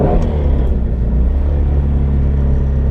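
A 2016 Shelby GT350 Mustang V8 downshifts, giving a loud, deep, continuous rumble with a slight rev-matched rise in pitch, heard up close with no talking over it.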